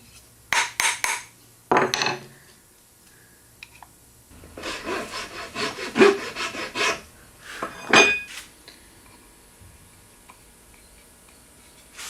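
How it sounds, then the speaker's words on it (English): Wooden tenons being cut by hand in a woodworking shop: bursts of rasping saw strokes, a quick cluster early on, then a longer run of rhythmic back-and-forth sawing, fairly close and with no talk. "Then I can cut some tenons."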